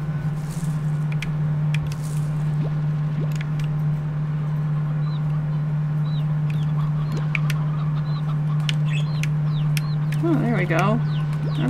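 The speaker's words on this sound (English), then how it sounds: "Lots and lots of hens." Hens cluck and chirp in the video game Slime Rancher, scattered short calls over a steady loud game hum and background music, with one busier burst of clucking near the end.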